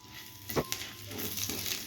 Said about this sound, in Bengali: তেজপাতা পাঁচফোড়ন একটু ভেজে নেব।